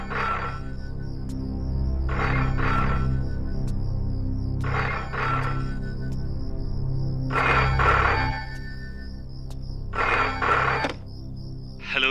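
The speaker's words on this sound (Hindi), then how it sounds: "क्यों बार बार फोन कर रहे हैं?" A telephone rings repeatedly in a Hindi action movie scene, five loud, evenly spaced bursts of trilling bell with brief gaps between them, no voices heard.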